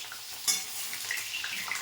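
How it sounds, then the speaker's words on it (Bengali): Potatoes fry in hot oil in a home kitchen, with a steady close sizzle, one sharp spattering burst near the start and light crackles and a faint utensil clink afterward. "বাপরে তেল একবারে ছিটকে আসছে গো"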